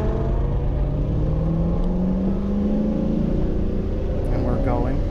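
A Jaguar XJ6C race car pulls away on a pit lane, its engine a steady close rumble with a rising tone as it gathers speed, heard from inside the car.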